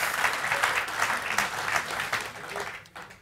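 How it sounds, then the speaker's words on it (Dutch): A studio audience on a Dutch news café show gives a short burst of dense, steady applause that tapers off near the end. "Ja, terecht, applaus."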